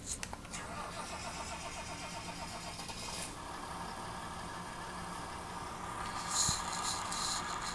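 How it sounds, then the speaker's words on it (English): A Farmall 1206 Turbo tractor with a Farm King rake in a farming video game cranks and catches, then settles into a steady mid-pitched idle, close and fairly quiet, with a brief rev swell near the end. "this beautiful Farmall 1206 Turbo with the Farm King rake on the back here. We're going to hop up on this thing and fire it up"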